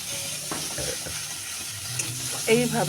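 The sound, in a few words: prawn paste stirred and fried in a wok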